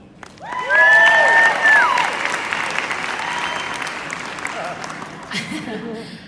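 A live audience breaks into loud applause welcoming a speaker to a stage, swelling quickly and holding steady clapping with some cheering before gradually thinning out.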